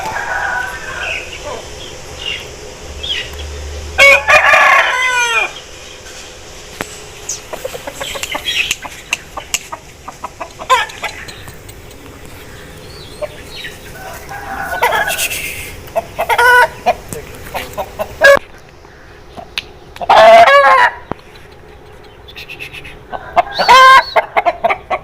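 An aseel rooster at a home in a lohar household crows loudly several times, with repeated clucking between the crows, close by and mostly on its own over a low hum.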